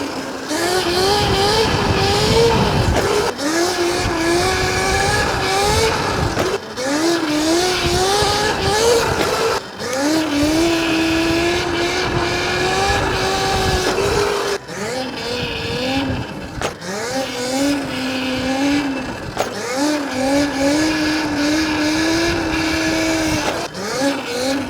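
A motorcycle fitted with upgraded reservoir shocks is ridden with its engine revving and shifting through repeated rising pitch sweeps, loud and close for the whole stretch, with a voice talking at times.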